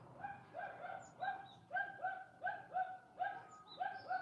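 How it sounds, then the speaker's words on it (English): Several dogs bark back and forth near a property, a steady run of repeated barks about every half second with a few higher yips, at moderate distance with no talking. "Oh, some dogs barking back."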